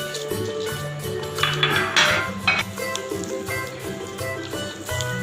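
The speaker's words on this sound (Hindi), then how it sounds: "ये कीमा और बटर हमने मिक्स कर दिया।" Butter being mixed into raw minced beef in a bowl for gola kababs, with soft squishing and scraping and occasional clinks of a utensil against the bowl, close up under a low background hum.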